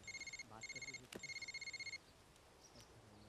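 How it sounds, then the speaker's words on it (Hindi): A phone ringtone chirps in repeated short electronic bursts, fairly faint, with a brief clatter midway and quiet room noise after it stops. "भाभी जी का फोन है, उठा लो"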